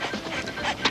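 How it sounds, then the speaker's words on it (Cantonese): A dog pants and huffs in quick, close breaths for about a second, with a faint whimpering edge and no speech over it. "好似聽到有狗叫聲喎"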